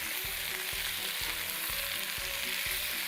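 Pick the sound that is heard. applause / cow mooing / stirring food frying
stirring food frying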